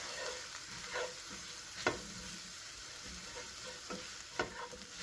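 Flour cooking in a pan as the base of an enchilada sauce, producing a soft continuous sizzle with a few brief scraping stirs and clicks, fairly quiet and without speech.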